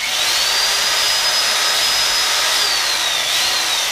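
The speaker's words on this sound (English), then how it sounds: "I'll take a drill bit and drill some holes." A power drill boring holes into a deer taxidermy mannequin, giving a steady, continuous high whine close by with no breaks, alone without talk.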